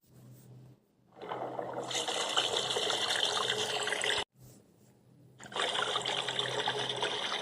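Water gushes steadily from an opened tap, broken by a brief stop before flowing again at the same close, even rush.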